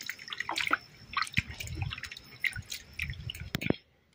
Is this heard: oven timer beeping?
no